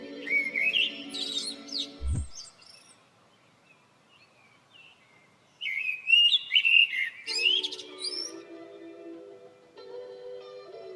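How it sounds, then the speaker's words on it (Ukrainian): Birds sing in spring in bursts of bright chirps and twittering whistles, with a long quiet gap in the middle and soft low tones underneath. "спів птахів."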